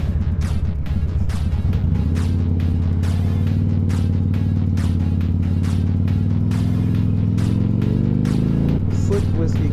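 A 15-year-old Harley motorcycle idles and rolls over a gravel entry, its loud, steady low engine rumble throbbing close by with crunching grit and brief engine surges under it.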